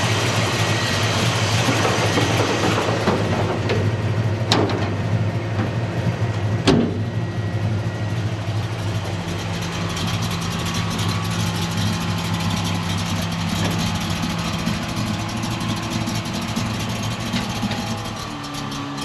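A 1983 Chevrolet El Camino engine with a badly adjusted idle screw runs loud and close, a rough steady idle with a few blips of throttle, easing slightly lower toward the end, with no talk.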